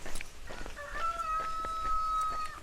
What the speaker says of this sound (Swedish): En tupp till och med.